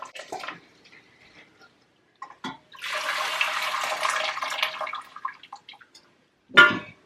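Kitchen tap water running steadily over a ham being rinsed, a few seconds of even splashing flow between brief clatters and handling noises.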